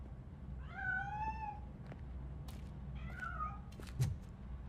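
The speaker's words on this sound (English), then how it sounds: "That cat must be hiding inside" A cat meowing in the Robocop video game, two drawn-out rising and falling meows a couple of seconds apart over a steady low game background hum, with a few light clicks between them.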